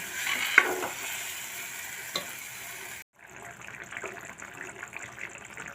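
A spiced dal-and-masala tempering sizzling in a pan as it is stirred, a close, steady hiss with scraping, briefly cutting out midway before resuming with added water.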